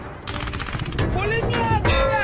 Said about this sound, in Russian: Пулемет!